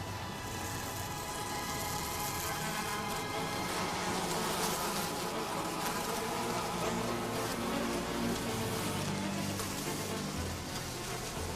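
Flies swarm around decomposing remains, giving a dense, continuous buzzing drone that stays at a steady, moderate level throughout, with no voices.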